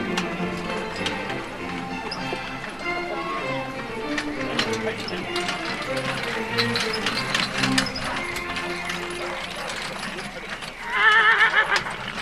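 An eight-year-old horse at an eventing competition with dressage and marathon tests, whinnying loudly near the end, with clip-clop of hooves and crowd murmur around it throughout.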